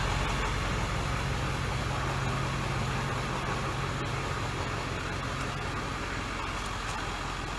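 A diesel bus engine running after a dose of Seafoam motor treatment, a loud, continuous low idling rumble with a constant drone throughout, close by and without talk.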